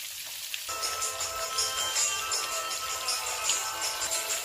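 Chicken wings fry in hot oil with a steady, close crackling sizzle that runs throughout, hissing and popping without any talk.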